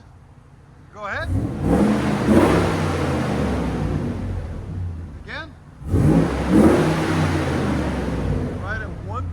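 Loud, close revs from a 2005 Dodge Ram's 5.7L HEMI V8 running a Flowmaster Flow FX muffler with the resonator cut off, two strong surges dropping back to a rumbling idle, with a voice speaking briefly.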